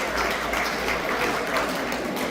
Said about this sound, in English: you do deserve a round of applause